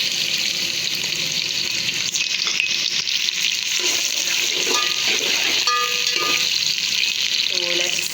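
Onions sizzle and fry in a pan with a constant hiss, joined by occasional stirring scrapes and clinks.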